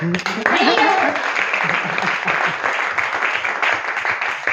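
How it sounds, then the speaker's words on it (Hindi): Audience applause at a business seminar in India, a dense rolling clatter of many hands, with a voice briefly speaking over the start before the clapping carries on alone. "जबरदस्त तालियां"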